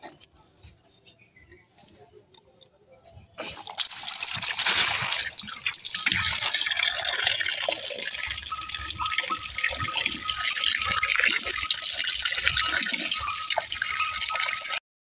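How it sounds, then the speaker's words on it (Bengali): Puja utensils being washed under a running tap, a steady loud gush of water starting after a few quiet seconds and continuing with faint clinks of vessels. "এখন ঠাকুরের বাসন কটা আছে ধুয়ে নেব"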